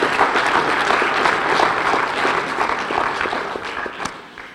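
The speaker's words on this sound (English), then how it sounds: "So nice round of applause for Elijah Carrion, please." Dense, loud applause from an audience at the 41st Annual Otto Graham Awards, a steady wash of many hands clapping that holds for several seconds before tapering slightly.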